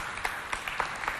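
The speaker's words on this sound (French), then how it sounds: "Applaudissez-vous bien fort." A group of young people gives themselves loud, dense applause, a continuous wash of clapping with a few sharper individual claps standing out.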